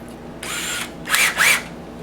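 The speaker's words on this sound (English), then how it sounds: "I'm going to drill one hole." A close power drill spins up briefly, then gives two short whining bursts as it bites into material.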